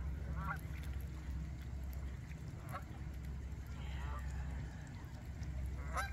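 Geese and ducks gather at Lake Tomahawk, with a few faint, distant honks and calls rising over a steady outdoor rumble.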